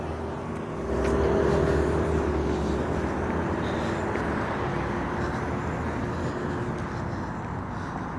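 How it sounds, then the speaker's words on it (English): A line of cars passes on a road as a steady, broad traffic hum, swelling slightly after the first second and staying fairly even and moderately close. "Line of cars going by."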